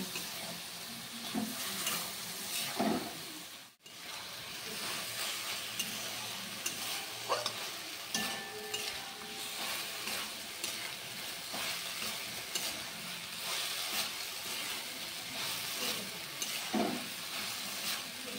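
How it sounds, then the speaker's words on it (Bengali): Kochur loti (taro stolons) being stirred in a pan with mustard and poppy seed paste, a steady close sizzle with soft scraping strokes and a few sharper clacks of the spoon throughout. "এবার ভালো করে একটু নেড়ে চেড়ে নেব"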